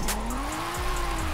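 A BMW M3 E in Forza Horizon 5 revs hard with a rising engine whine while the tires squeal and skid, a steady loud drift sound with no talking.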